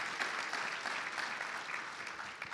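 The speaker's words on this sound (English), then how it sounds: "Round of applause, guys." A summit audience gives a round of applause, a continuous even wash of many people clapping, moderately loud and tapering slightly toward the end, with no speech over it.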